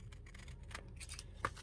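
Scissors snipping excess paper while making a junk journal, a few quiet close cuts ending in one sharper snip.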